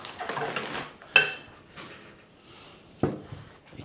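Metal cookware clanking as a pot is handled, two sharp knocks standing out among softer rustles and scrapes nearby.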